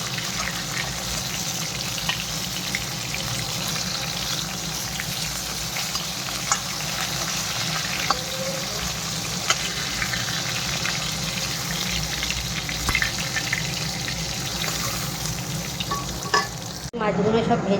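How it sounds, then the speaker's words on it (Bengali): Fish frying in hot oil in a pan for a fish and aubergine curry, a steady close sizzle with faint stirring and clinking throughout, ending with a brief louder clatter. "এখন এই মাছটাও ভাজা হয়ে গিয়েছে।"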